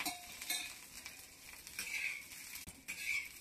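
Chopped green chillies roast and sizzle in a little oil in a pan while being stirred, a faint, steady frying hiss with occasional soft scrapes, no voices.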